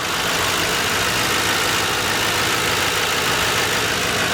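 The flex fuel engine of a 2008 Ford Crown Victoria Police Interceptor idles steadily and close by, a constant broadband rumble with no talk over it.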